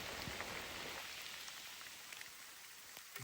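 Steady rain patters on a surface, a dense hiss with scattered droplet ticks, fairly close and continuous with no voices.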